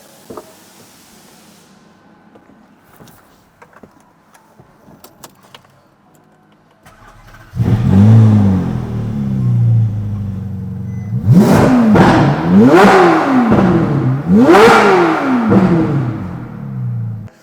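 After quiet rustling and clicks, a powerful car engine roars to life, then revs sharply three times in loud rising-and-falling bursts.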